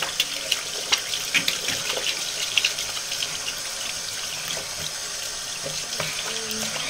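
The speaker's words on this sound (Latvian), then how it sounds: "Tas mazgāju rokas." A bathroom tap runs steadily as hands are washed beneath it, giving a close, continuous splashing rush with small irregular spatters, no voices heard.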